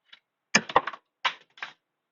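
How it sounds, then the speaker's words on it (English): Scissors are thrown down onto a craft desk during card making, giving a few sharp, close clattering knocks in quick succession, with a faint tap just before and short pauses between the hits. "just me throwing scissors."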